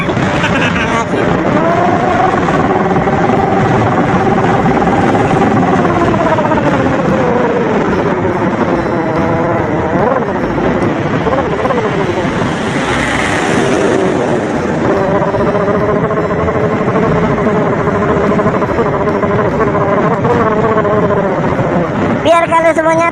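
A Yamaha Lexi automatic scooter engine drones continuously through its exhaust, rising and falling as it revs, loud and close, with a voice talking over it.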